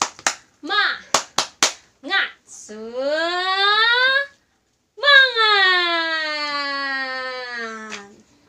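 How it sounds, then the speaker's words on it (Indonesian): A group of children at an online Sunday school service clap a quick rhythmic pattern of several sharp claps, then break into two long, drawn-out chanted voices that rise and fall. "Kita tepuk semangat bersama ya. Semuanya, tepuk semangat."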